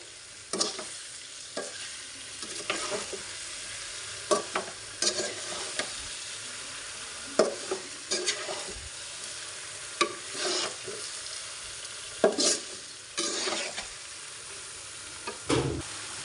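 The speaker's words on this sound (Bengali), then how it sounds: "ভালোভাবে নেড়ে ছেড়ে মিক্স করে নিচ্ছি।" Ambarella pickle with mustard paste being stirred in a pan, heard as scattered scraping and clinking strokes of a spoon over a faint sizzling hiss, quiet and close with no talk.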